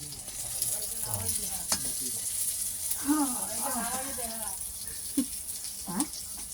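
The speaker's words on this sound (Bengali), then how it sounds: "যে এখন বেগুন ভাজছে দেখো কাঠের উনুনে।" Eggplant slices frying in oil on a wood-fired clay stove in a village kitchen at night, a steady sizzle with occasional stirring scrapes beneath a voice speaking over it.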